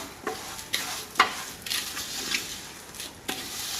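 Vermicelli fries in ghee in a hot pan while a spoon stirs it, producing irregular scraping strokes over a low sizzle, close and moderately quiet.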